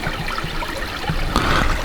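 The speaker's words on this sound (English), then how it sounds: "Cool creek." Creek water trickling and splashing steadily near a large shelter cave in the Shawnee National Forest, close and constant with no talking.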